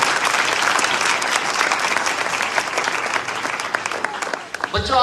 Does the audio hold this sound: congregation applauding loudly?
yes